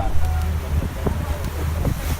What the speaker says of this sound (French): on remonte dans le bateau, 2e jour de navigation sur le Mekong.